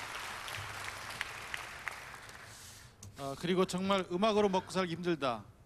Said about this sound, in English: please give him another big round of applause for such great question